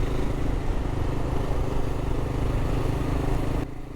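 Kawasaki KLR650 motorcycle running steadily over a heavily corrugated, sandy outback track, a continuous loud engine drone with rumbling road noise that drops away in the final half second.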